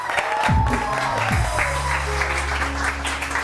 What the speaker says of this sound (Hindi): तो ये तालियां हम सबके लिए